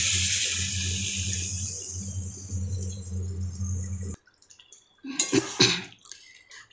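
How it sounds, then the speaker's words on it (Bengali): Water poured into a pan of pointed gourd and shrimp curry: a loud, steady rushing pour for about four seconds that stops abruptly, followed by a brief bubbling sizzle and a few clinks. "জল অ্যাড করে দিচ্ছি।"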